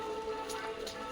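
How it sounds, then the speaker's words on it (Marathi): Steady rain falling during a Ganpati festival outing, a continuous close patter on surfaces with a faint tonal hum underneath. "पाऊस थांबत नाहीये"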